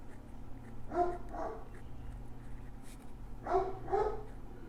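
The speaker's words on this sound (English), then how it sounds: "I apologize for the dog." Indoor dog barking in two short pairs of barks, moderately close, over a steady low household hum with no talk.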